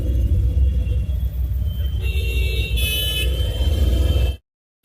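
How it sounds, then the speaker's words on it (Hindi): Heavy jammed road traffic rumbles loudly and steadily close by, with brief horn toots layered on top midway before the sound cuts off abruptly. "और ट्रैफिक बहुत ज़्यादा है।"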